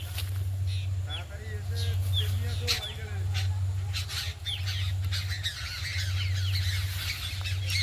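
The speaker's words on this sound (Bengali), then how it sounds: "আর এত পাখির ডাক আমাদের এখানে" Flocks of winter migratory birds squawk and chirp all over a rice field during machine harvesting, a dense, continuous chorus of overlapping calls above a steady low engine drone.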